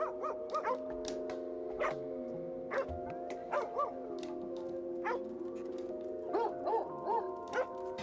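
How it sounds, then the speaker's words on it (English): Repeated dog barks and yips from the game Stray, modded with Bolt the Disney dog, at irregular intervals over a steady tonal hum, slightly synthetic-sounding, with no talking. "The barking sounds in this one pretty good."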